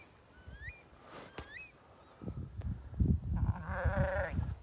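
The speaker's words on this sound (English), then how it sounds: "Swaledale Yow and Lamb." A Swaledale ewe and lamb bleat a few times at a distance on open moorland, then louder, closer bleats come near the end, with faint birdsong and soft rustling.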